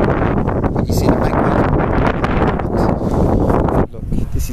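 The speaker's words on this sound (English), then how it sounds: "A bit windy at the moment." Steady, loud wind buffeting the microphone outdoors on rural land in Catalonia, a dense roar with gusts, briefly easing near the end before rising again.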